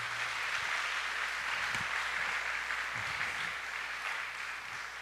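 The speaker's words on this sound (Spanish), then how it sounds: "Démosle un aplauso fuerte a nuestro Dios." Congregation applause during an evangelical church service, a steady diffuse wash of clapping heard from a distance at fairly low level, with a few faint low thumps underneath.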